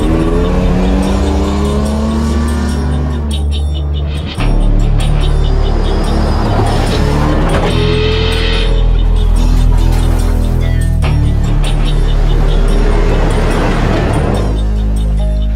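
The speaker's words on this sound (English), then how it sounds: "I get a chance to play with the Tacoma a bit, sliding through turns, powering along the trail in clouds of dust." A Toyota Tacoma powering and sliding through turns on a dusty trail, its engine revving up and down loudly with rising and falling pitch, gravel crunching and tires scrabbling, no talk.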